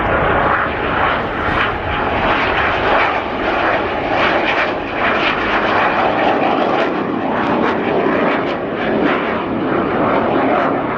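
An MB339 jet flies a display at an air show, a loud, sustained engine roar that pulses and surges overhead throughout, with no talk.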